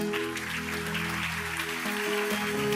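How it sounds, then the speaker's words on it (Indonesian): Indonesian church congregation giving applause to God during a sermon, steady clapping over a sustained organ or keyboard chord that lingers beneath. "Kasih tepuk tangan tuh Tuhan"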